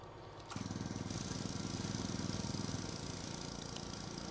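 A tractor engine in Farming Simulator 17 idles low, then revs up with a thick, rhythmic mid-range chug that holds steady and close, running alone without any voices.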